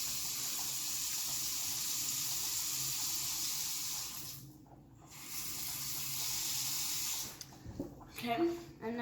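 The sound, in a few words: filling a pan with water from the tap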